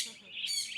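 A single bird calls close by in a bird enclosure in Sri Lanka, a brief high chirping call lasting under a second, fairly clear with no talk over it.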